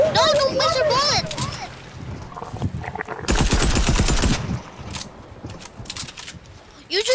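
Bursts of automatic weapon fire in a Fortnite match during a kids' tournament, loud rattling volleys broken by pauses, with excited voices shouting over and between the shots.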